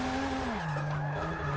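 A Nissan 240 drifts in Forza Motorsport 6, its tires letting out a loud, sustained squeal whose pitch slides downward partway through the skid over a steady engine drone.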